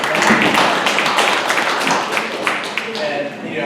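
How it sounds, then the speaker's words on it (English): An audience at a neighborhood association meeting applauds in a steady, dense wash of clapping that holds across the room, fairly loud and continuous with some voices mixed in beneath it. "Let's give one more round of applause for coming."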